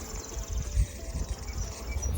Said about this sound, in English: the bees are getting ready to go out for their work outside